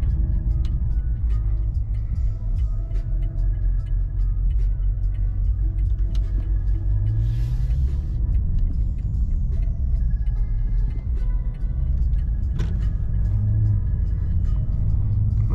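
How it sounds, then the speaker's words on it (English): A 500+ hp BMW M550i making a U-turn on a late-night drive in downtown Houston, heard from inside as a steady, deep engine rumble with road noise that swells briefly mid-turn. "I'm gonna bust this U-turn"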